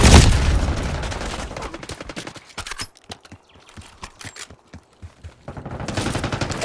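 Gunfire in the Black Ops 6 video game, loud bursts of rapid automatic fire opening and closing the stretch, with sparser scattered shots and clatter in between, no talk.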